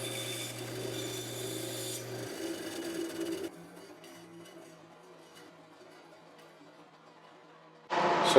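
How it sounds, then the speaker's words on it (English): Wood is rubbed against sandpaper lined on a continuous hinge, a rasping scrape over a machine hum for a few seconds, then quieter rubbing before a sharp loud burst of noise at the end. "So this is just a continuous hinge lined with sandpaper and two-sided tape."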